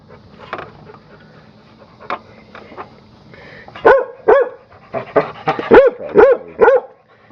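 A dog nearby whines softly at first, then lets out a string of loud, sharp barks in quick succession.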